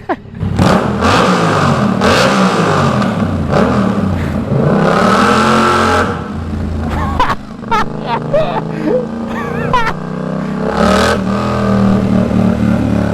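A Yamaha R7 60th anniversary sport motorcycle engine revs loudly and nearby, climbing and dropping through several blips, with short sharp throttle stabs in the middle and a final rising rev.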